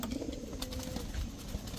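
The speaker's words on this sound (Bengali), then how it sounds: "এটা আমাদের দেশীয় বাবরা ছাড়াছাড়ি রোড মাস্টার কবুতর" Babra Road Master pigeons, a native breed, cooing in a low throaty murmur, close by and brief, with faint background noise.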